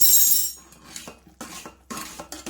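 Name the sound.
stirring melted jaggery with cardamom powder in a pan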